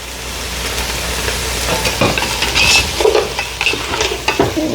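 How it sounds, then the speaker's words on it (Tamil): Vegetables frying in oil in a pan with stirring: close, fairly loud sizzling broken by scraping and clattering strokes of the spoon, with no voices. "இதை நாங்கள் பொரித்து எடுக்க போகிறோம்"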